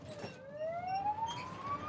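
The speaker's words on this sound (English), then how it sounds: "We are interrupted by an ambulance siren." An ambulance siren in wartime Mariupol rises in a steady upward sweep, moderately faint and somewhat distant, over low background rumble.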